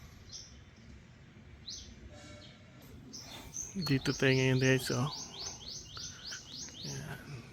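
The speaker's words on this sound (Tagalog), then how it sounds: "May kumakanta na ibon." A bird sings from high up in trees near coconut palms, its repeated chirping phrases coming from a moderate distance behind insect buzz and someone speaking.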